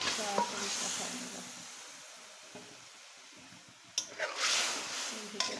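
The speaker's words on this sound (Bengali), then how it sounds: "আমি একটু সামান্য পানি দিয়ে দিচ্ছি। পানি দিয়ে মাছগুলোকে কষিয়ে নেব।" Pangas and rui fish simmer in a pan with a little added water, a soft hiss and sizzle that fades, then flares again in short bursts, faint and close, with light talk over it.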